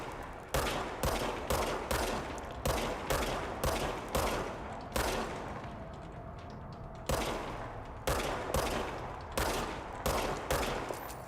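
Gunfire from a gun in the Indiana Jones video game: loud, sharp shots in a rapid regular series, a pause of about two seconds, then another steady run of shots.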